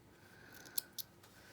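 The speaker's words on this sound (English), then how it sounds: "Let's just cut this, trim that bit off." Scissors trimming cotton fabric for a handmade fabric journal: two quick, crisp snips about a fifth of a second apart, close and fairly quiet over a faint room hum, with no speech.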